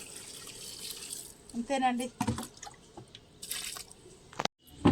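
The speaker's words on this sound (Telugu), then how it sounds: "ఈ చెట్టు కూడా వేసుకుందాం వాటర్" A garden plant is watered, with splashing and dripping in short bursts and a brief gush near the end, while a person speaks briefly.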